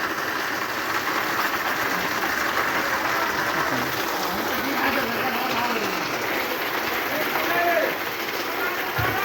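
Rain falls steadily in a continuous hiss on surfaces, even and fairly loud from start to finish, with a low engine-like hum underneath.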